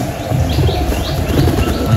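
A female Jalali pigeon lands close by with a brief flurry of wing flaps, over a steady background hum.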